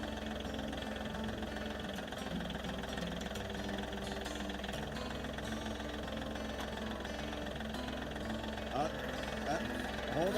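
A tractor engine idles with a steady mid-low drone and faint knocking rattle throughout, while people talk over it.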